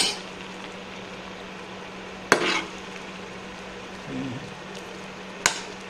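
Cucumber pieces simmer in a pot of water with salt and turmeric, giving a steady soft bubbling hiss, broken by two sharp utensil clinks.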